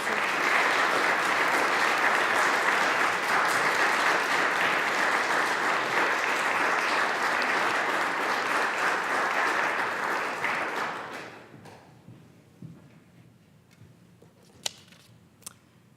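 Audience applauding a scholarship recipient at an awards event: a dense, steady roar of clapping from a large crowd for about eleven seconds, then fading to a few scattered claps and quiet room noise.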